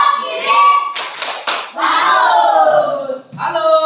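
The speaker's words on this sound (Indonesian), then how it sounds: "Untuk kita semua, tepuk jempol." A classroom of children does a thumb-clapping chant, with rhythmic hand claps mixed with young voices calling out in short bursts.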